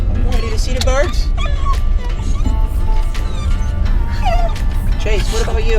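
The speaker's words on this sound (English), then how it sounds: "The dogs know we're close." Dogs inside a car bark, yip and whimper excitedly in short high bursts near the microphone, with people talking over the noise and the car's low hum underneath.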